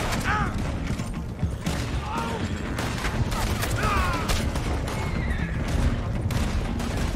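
Horses whinny repeatedly in a Red Dead Redemption 2 gunfight, their neighs rising over a dense, steady din of gunfire, clattering hooves and wagon noise, with shouting voices mixed in.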